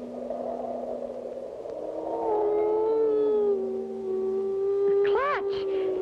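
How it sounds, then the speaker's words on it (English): Cartoon howling wind wails around an old castle tower, a wavering, rising and bending whine with a slightly eerie tone, followed by a brief voice near the end. "Must be the wind blowing around the tower."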